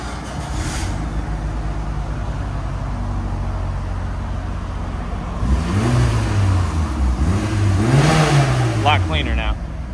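A 1996 Mitsubishi Lancer Evo, right-hand drive, with a resonator delete exhaust idles with a steady engine drone, then revs up in rising and falling sweeps that grow louder near the end; people talk over it.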